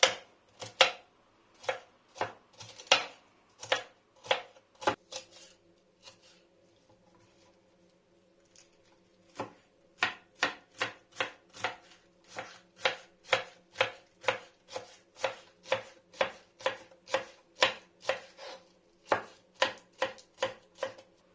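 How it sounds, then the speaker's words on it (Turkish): A knife chops vegetables into small cubes on a cutting board, sharp rhythmic taps in steady bursts with a brief pause midway, close and clear with no talking. "böyle minik minik küpler halinde doğrayacağız"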